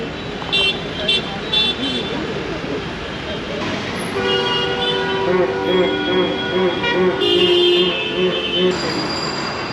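Busy city street traffic in a historic part of Mumbai, with repeated short horn toots and longer honks over a steady rumble of vehicles and a background murmur of voices.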